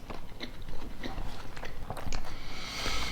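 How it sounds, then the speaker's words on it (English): Close, crisp crunching from bites into a crunchy beef taco topped with kale slaw, followed by steady chewing, with no talking. "The crunch from the kale slaw is really hearty."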